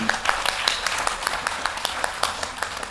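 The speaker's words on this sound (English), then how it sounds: "let's have a round of applause" Applause from an audience at a talk, a steady wash of many hands clapping at moderate loudness, fairly even throughout with scattered sharper claps.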